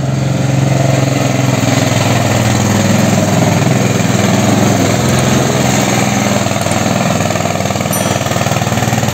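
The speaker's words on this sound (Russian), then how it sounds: "Трудится тракторишка." A small tractor engine runs steadily while working, a loud, continuous mechanical drone with a low rumble and no let-up over the whole stretch, with no voices.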